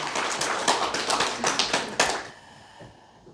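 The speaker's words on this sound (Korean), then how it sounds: "박수 하겠습니다." Scattered applause from a modest church congregation claps for a couple of seconds in a reverberant church, then quickly fades to quiet.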